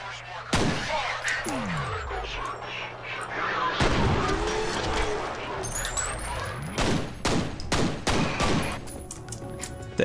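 Pistol and weapon fire in the video game F.E.A.R., with repeated sharp gunshots in irregular bursts, some booming impacts and rumbles amid game effects, loud and close.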